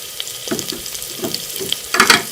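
Chicken with garlic and ginger frying in a pan, tomato just added, giving a steady sizzle with a few stirring scrapes and a louder crackling burst near the end, with no talking.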